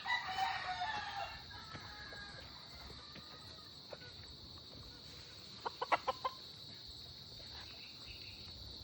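Gamecock stags being prepared for a derby crow and cluck faintly at a distance, with a short burst of clucks near the end, over a steady high chorus of crickets and insects.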